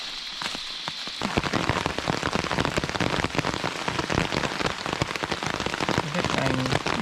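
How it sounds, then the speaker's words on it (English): Rain patters steadily on a sailboat at anchor, a dense close crackle of drops striking the deck and surfaces that grows louder after the first second and continues unbroken. "A bit rainy."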